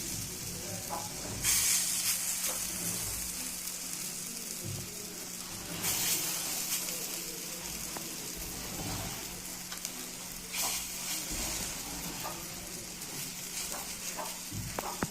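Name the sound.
lentil fritters (bora) sizzling as they fry in a frying pan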